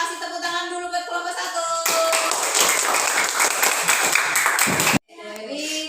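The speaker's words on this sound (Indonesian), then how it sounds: "kita kasih tepuk tangan dulu buat kelompok" Classroom students at an Indonesian religious studies lesson applauding a presenting group, a lively burst of clapping lasting about three seconds that stops abruptly, with voices and tonal sounds before and after it.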